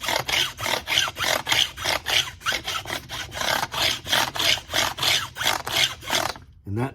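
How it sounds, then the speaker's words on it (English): A file epoxied into a wooden block is run back and forth along a guitar fretboard to dress the frets, giving a steady series of about fifteen rhythmic rasping strokes, close and clear, ending in a brief thump. "I've made this block a long time ago that's got a file that I epoxied in here, and I can take and run it down the fretboard like this."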